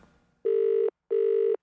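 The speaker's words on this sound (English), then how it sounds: "you get a phone call from your" A mobile phone rings with an incoming call, giving two identical electronic tone bursts of about half a second each, separated by a short gap, clean and close with nothing else audible.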